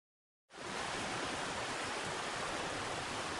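A river rushes through a rocky canyon in Hualien, Taiwan, heard as a dense, even roar of flowing water that begins abruptly after a brief silence and holds steady throughout.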